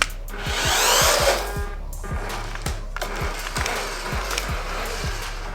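A radio-controlled mini drift toy car with hard plastic wheels, running in medium speed mode, whirs and skids with a rapid string of clicking, scraping pulses, a louder rushing burst early then steadier rattling, close by.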